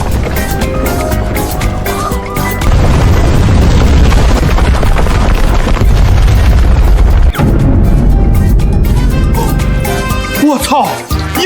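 A huge explosion, supposedly a gas canister blowing up, in a drama about a homemade handheld missile: a loud, close, sustained roar with a heavy rumbling low end fills nearly the whole stretch before it briefly cuts out.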